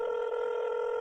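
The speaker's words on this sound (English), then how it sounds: "It's dialing now." A steady electronic ringback tone from an Odoo VoIP phone call, one continuous loud tone held for about a second with no voices.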